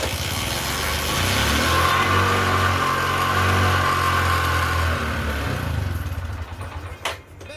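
A motorcycle engine, starting after a year unused, runs with a loud, steady drone for several seconds, then falters and dies away near the end, leaving a few faint clicks.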